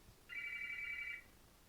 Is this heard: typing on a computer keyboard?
no